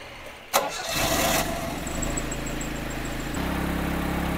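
A Mitsubishi Lancer engine cranks with a sharp click and catches, then settles into a steady, loud idle with a faint high whine above it.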